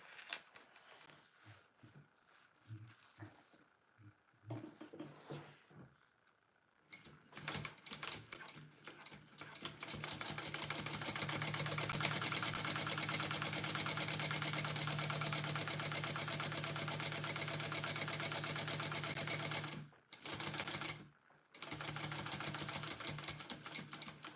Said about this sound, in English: now I've got to sew this on.